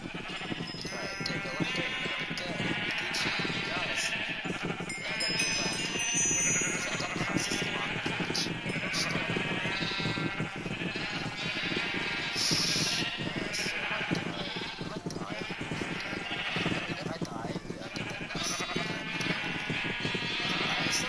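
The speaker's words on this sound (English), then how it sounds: "My sheep are keeping on escaping." Repeated sheep bleats from a video game where livestock keep escaping their pen, loud and dense throughout with overlapping calls and a busy background of game sounds, faint footstep-like clip-clops mixed in.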